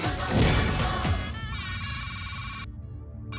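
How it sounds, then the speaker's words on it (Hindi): A telephone rings on the Deal or No Deal game show set as the banker calls in: a loud, bright electronic ring with sustained tones that cuts off abruptly, following a noisy crash of studio sound. "बैंकर बाबू का फोन आ गया"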